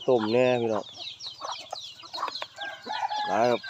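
Chickens on a low-cost backyard village farm in Thailand give loud, drawn-out crowing calls at the start and end, with scattered clucks and other bird sounds between them.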